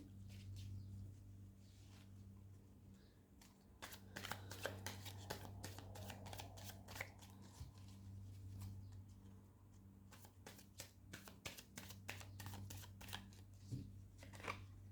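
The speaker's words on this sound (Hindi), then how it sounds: "एक बार और शफल करते हैं" Tarot cards are shuffled by hand for a pick-a-card reading, with a near series of soft flicking card slaps, sparse at first and then a dense run of rapid riffles over a quiet background hum.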